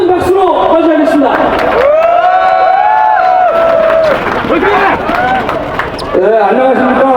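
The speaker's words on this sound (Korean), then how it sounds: "큰 박수로 맞이하겠습니다" A rally crowd at a national assembly claps and cheers as a speaker is welcomed, broad applause and shouts under amplified speech, loud and echoing through an open space.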